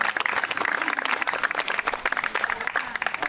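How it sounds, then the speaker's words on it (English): A crowd at a senior day gathering applauds, a brisk, dense clatter of many hands clapping close by with uneven pulses throughout. "Let's give a round of applause."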